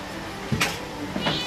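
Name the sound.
cat meowing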